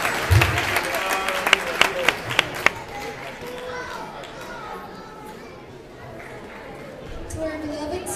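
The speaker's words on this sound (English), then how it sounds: "A big round of applause, please," An audience at a school ceremony applauds the salutatorian before her address, a dense wash of clapping with some sharper claps near the start, easing slightly in the middle and swelling again toward the end, with faint crowd chatter.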